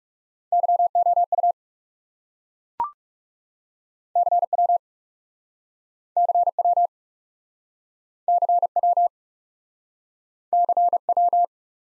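Morse code CW tones sent at 30 words per minute, bursts of a steady pure tone keyed in short groups separated by silent gaps, with one brief click partway through.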